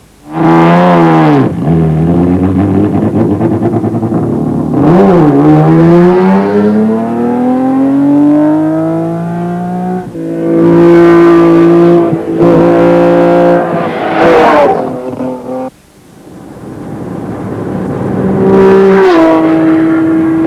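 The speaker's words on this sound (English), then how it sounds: "that's Tony Viana coming past us at 250 kilometers an hour" BMW 745i E23 modified race car screaming past at around 250 km/h on an open road, its engine note rising and falling through repeated gear changes, loud and close, with no voices.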